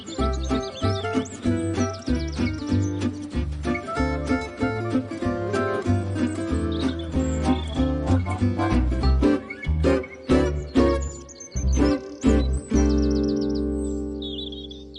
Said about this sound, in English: you can hear sometimes the whole tree is a twitter